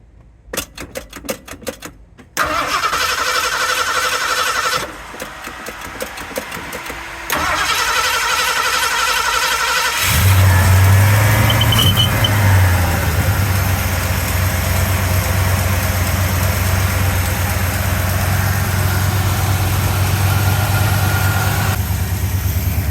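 1970 Ford pickup truck V8 cranking with rapid starter clatter, a pause, more cranking, then catching and settling into a loud, steady, rumbling idle close by.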